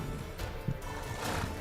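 A horse in The Witcher 3: Wild Hunt gives a short, low snort and whinny amid a steady murmur of background sound, fairly faint and brief.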